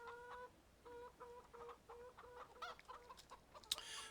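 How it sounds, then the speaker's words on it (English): Chickens at a coop in the Farming Simulator 17 video game cluck in a steady run of short repeated calls, faint and close together, ending with a sharper squawk. "Then we have our chickens here."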